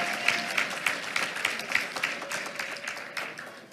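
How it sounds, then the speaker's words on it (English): Audience at a Tyler school board meeting gives a round of applause for a student award, a steady wash of many hands clapping, moderately loud and continuous, tapering slightly at the end. "Let's give him another round of applause"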